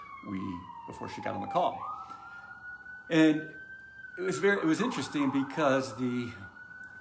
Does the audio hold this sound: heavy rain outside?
no